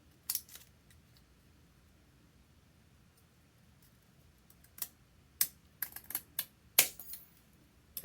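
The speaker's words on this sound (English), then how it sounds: "Use scissors that are sharp." Quiet room, then a run of sharp, close snipping clicks from scissors cutting paper, irregular and brisk, clustered toward the end.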